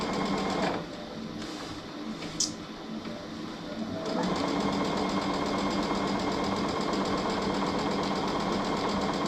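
Home sewing machine stitching a zigzag stitch on pillowcase fabric, a steady rapid mechanical whir that starts softly, pauses briefly, then runs continuously and louder through the second half.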